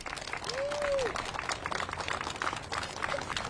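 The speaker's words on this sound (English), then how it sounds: "a round of applause for the mayor" Outdoor applause for Boston Mayor Michelle Wu at an Earth Day press conference in a park, a sustained patter of clapping from a moderate crowd, with a brief whistle near the start.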